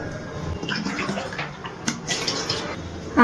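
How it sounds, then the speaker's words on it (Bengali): About two cups of water are poured into a kadai while making dough for dudh puli pitha, producing a soft, uneven splashing gush that runs for a few seconds. "কড়াইয়ের মধ্যে দিয়ে দিচ্ছি এই কাপ মেপে 2 কাপ জল"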